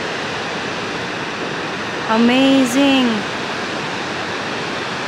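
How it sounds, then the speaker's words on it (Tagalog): The Tvindefossen waterfall in Norway, heard from the parking area, makes a constant broad roar of falling water that fills the scene throughout, while a voice briefly speaks over it. "marinig nyo pa rin po talaga yung bagsak ng tubig oh"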